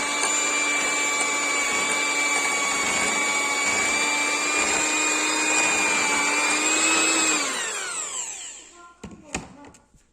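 A hand-held electric mixer whips cake cream in a bowl, a steady high motor whine held loud and unbroken for about eight seconds before spinning down and stopping, followed by a few faint clicks.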